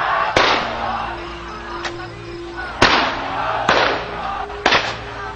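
Weapons fire in a continuous volley of sharp, loud cracks, four or five reports spaced irregularly over a few seconds, against a murmur of background noise.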